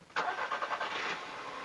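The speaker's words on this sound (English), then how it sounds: "Start the engine." A Volkswagen 1.2 TSI petrol engine cranks and fires after an oil change, a brief burst of starter whir and catching combustion that settles into a steady idle, close by and fairly quiet.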